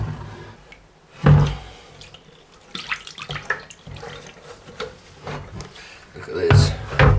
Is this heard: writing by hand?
no